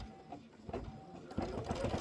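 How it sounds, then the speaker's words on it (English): An embroidery machine stitches a block for a Kimberbell Halloween witch hat pillow with a steady, busy mechanical whir and soft rhythmic needle pulses. It grows slightly louder and denser in the second half. "This is going to be 10 minutes of stitching."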